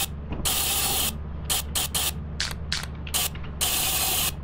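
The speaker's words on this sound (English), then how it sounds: "it even spray paints the" A spray paint can in the video game Lethal Company hisses in loud bursts, some long and some short and choppy, over a steady low hum, with no talking.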